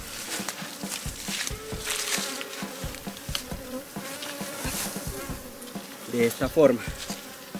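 Honeybees buzz continuously around a hive being split, a close, dense hum with occasional louder passes, while a person speaks briefly near the end.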